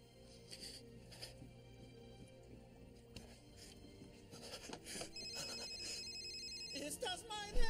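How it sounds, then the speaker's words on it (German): A mobile phone ringing in a German film scene, a repeating electronic ringtone pattern in short bursts over background music and ambience, moderately faint. "Ist das mein Handy?"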